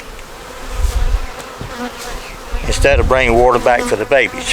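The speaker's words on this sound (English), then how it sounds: "you've got more bees collecting honey, or making honey and collecting nectar" Honey bees at a South Carolina hive buzz in a close, loud, continuous drone, joined partway through by someone speaking over the swarm.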